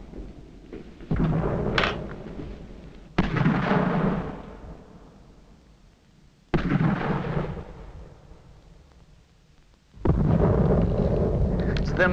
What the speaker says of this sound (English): They're mortar bombs that scare me